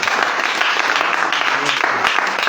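A church congregation applauds in a dense, continuous wash of clapping, steady and fairly close, with voices faintly mixed in.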